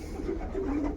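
Domestic racing pigeons cooing in a loft, a few soft low coos repeating close by over a steady background hum, with no talk.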